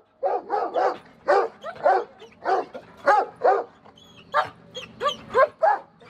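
Belgian Malinois barking and whimpering up close, a run of about fifteen sharp yips and barks in uneven bursts with brief whiny pauses between them.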